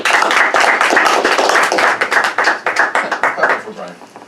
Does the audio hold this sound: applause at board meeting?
yes